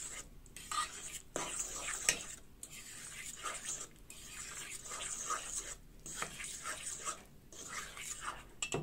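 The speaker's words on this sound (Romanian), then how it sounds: "Tot cu furculița amestec" A fork mixes mashed potatoes in a bowl with repeated soft clinks and squelchy scraping strokes, close and fairly quiet, continuing steadily without talk.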